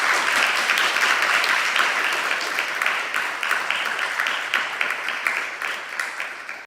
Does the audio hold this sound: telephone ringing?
no